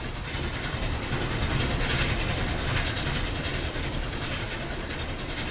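C&O 2765 steam locomotive accelerating with its throttle open along the New River Gorge, a loud, steady wall of rumbling exhaust and rolling rail noise, close and continuous without pause.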